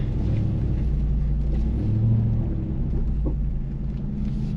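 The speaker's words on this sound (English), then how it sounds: "keeping the throttle down for a splashdown." A 2022 Ram 1500 TRX pickup drives into water with the throttle held down, giving a steady low engine rumble with a brief louder surge partway through.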